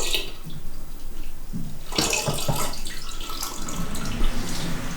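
Water poured and swirled to rinse the last malt extract out of its container for home brewing, a close, splashing gush with gurgles and trickles that gets stronger partway through.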